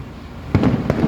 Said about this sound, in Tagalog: Guys, fireworks.